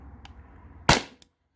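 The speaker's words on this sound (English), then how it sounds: "this is the final shot on this magazine" A single sharp crack from a Salt Supply S2 CO2 air pistol during can plinking, close and brief, followed moments later by a faint tick of the pellet striking a can.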